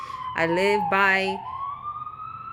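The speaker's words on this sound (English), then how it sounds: "And I apologize for the sirens if you hear them all the time." An emergency vehicle siren from a nearby fire station, ambulance or police station wails steadily, its pitch slowly rising, while a person speaks a brief phrase over it early on.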